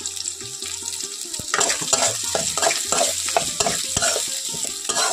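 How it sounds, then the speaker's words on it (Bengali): Finely chopped onion fries in a hot pan, a steady sizzle broken by repeated scraping stirs of a spoon against the pan, close and fairly loud. "এখন আমার পেঁয়াজগুলো ভাজা হয়ে গেছে"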